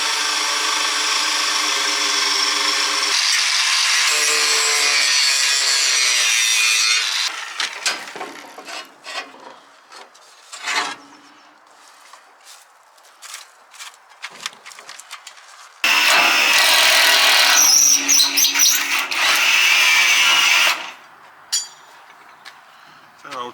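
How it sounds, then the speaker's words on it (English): A power tool cuts rusty bolts out from under a tri-axle trailer to free the mud guards, whining loudly in long sustained bursts broken by a stretch of softer clatter and pauses. "Under the trailer, cutting rusty bolts out so we can get the mud guards off."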